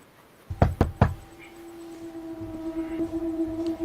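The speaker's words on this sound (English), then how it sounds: "Someone's knocking." Three loud, close knocks on a door in quick succession, followed by a steady low hum and background noise.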